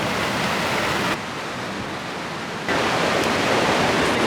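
A creek flowing at an off-grid water intake, steady broadband rushing and splashing of water close by, continuous and loud with no voices.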